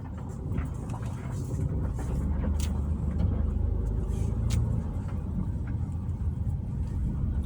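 Car driving around Trellis Bay on Tortola, a steady close engine and road rumble heard from inside the vehicle and holding at an even loudness throughout, with a few faint higher clicks on top.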